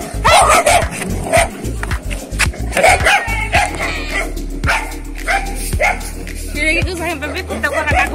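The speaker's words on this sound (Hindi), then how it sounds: "कोई ना कोई जो कुत्ते होते हैं अटैक करने आते हैं ऐसे काटने के लिए" Several dogs bark and yip loudly on a street during an early-morning walk, with repeated overlapping barks and some whimpering throughout, close to the listener and mixed with other street noise.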